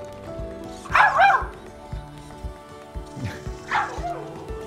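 Tombot Jennie, a robotic puppy dog, gives two short bursts of yips and barks about three seconds apart, close and moderately loud, with a faint voice in the background.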